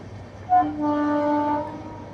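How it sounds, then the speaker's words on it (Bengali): A train passing close to a damaged bridge at a quiet rural nature spot sounds its horn: a short higher note and then a sustained, clear blast lasting about a second, heard nearby without talk. "আর এই পাশেই দেখো ট্রেন যাচ্ছে।"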